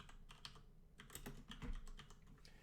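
Keys clatter on a computer keyboard in quick irregular taps, close and moderately quiet, with a slightly heavier keystroke near the middle and no voices.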